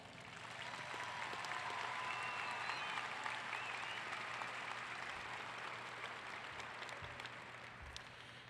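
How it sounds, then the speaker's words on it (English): A large audience at a high school graduation ceremony applauds the graduating class, a broad, sustained roar of clapping heard from a distance that swells and then slowly tapers off. "Let's give them a nice round of applause."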